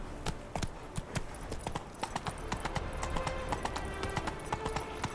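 Roach, Geralt's horse in The Witcher 3, hooves striking the ground in a fast, rhythmic clip-clop that keeps up throughout, fairly faint and with no talk.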